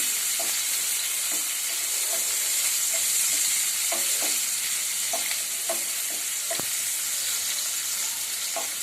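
Chopped onions sizzle steadily in hot oil for a vegetable biryani, a dense continuous frying hiss with small scattered pops and occasional stirring clicks, close and alone with no voices.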